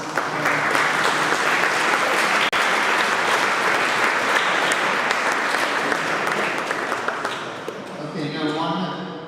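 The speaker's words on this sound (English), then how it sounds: "So I would like you to give a big applause." Big round of audience applause at a youth amateur radio summer camp opening ceremony, sustained dense clapping from a large crowd that holds steady for several seconds before thinning and fading out at the end.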